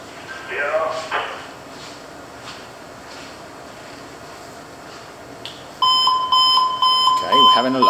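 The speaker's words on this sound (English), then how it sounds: "we have an alarm" A steady electronic engine room alarm buzzer beeps repeatedly in the second half, preceded by a clunk and mechanical hum, during ship main engine and steering gear tests.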